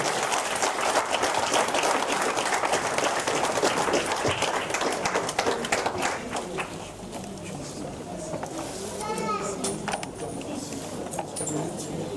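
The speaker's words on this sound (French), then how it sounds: "Sous vos applaudissements, s'il vous plaît, mesdames et messieurs." An audience at a cultural evening in a church hall in Paris applauds in dense, steady clapping that gradually thins and softens, with a voice briefly heard near the end.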